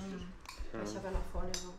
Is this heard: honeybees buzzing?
no